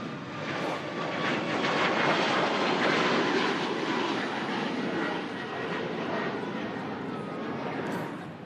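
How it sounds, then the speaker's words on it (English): A Boeing 737 MAX 8 departs Manchester Airport, bound for Antalya, its jet engines making a loud, steady, broadband roar that holds for the whole stretch without letting up. "another Boeing 737 MAX 8, this time belonging to CUR. So that's popular 31, and aircraft headed off to Antalya"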